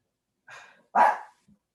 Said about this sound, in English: We need a minute break for the dogs in the household.